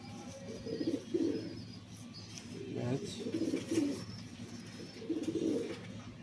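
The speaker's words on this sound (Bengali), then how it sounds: "একটা ছিলা ভোড়া পায়রা আছে" Several soft, rolling coos from a male pigeon repeat at intervals, close by and moderately quiet, over a faint background hum.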